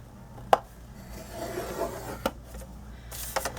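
Cardstock paper being scored on a scoreboard: a few soft rubbing and scraping strokes with sharp little taps and clicks, close and quiet, no voices.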